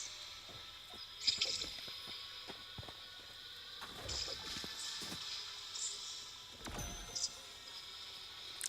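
Water splashing in Fortnite, as a player character moves around inside a vault, gives soft squishy watery steps and drips in an irregular rhythm, quiet under a steady game ambience with a few sharper knocks.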